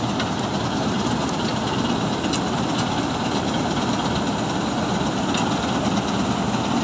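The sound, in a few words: combine harvester cutting wheat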